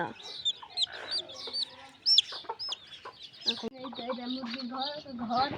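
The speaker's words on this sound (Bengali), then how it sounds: "মুরগি তো দেখতে পাচ্ছেন" Several chickens cluck in a farmyard with a quick, uneven rhythm of calls close by, a shrill squawk here and there, while someone talks over them.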